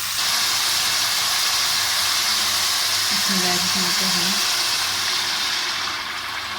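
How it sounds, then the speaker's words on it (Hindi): Chicken pieces fry in a hot pan with a steady, loud sizzle and hiss that runs throughout, and a brief low hum rises partway through. "इसको थोड़ा सा हम भूनेंगे, तकरीबन 2 से 3 मिनट हम भूनेंगे"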